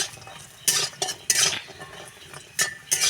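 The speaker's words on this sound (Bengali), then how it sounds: "এখন আমি দিয়ে দেব বড়িগুলো। এখন ভেজে নেব আমি।" Bori, Bengali sun-dried lentil dumplings, drop into hot oil with a crackling sizzle, broken by bursts of spoon-on-pan clatter and scraping in uneven clumps, with no talking.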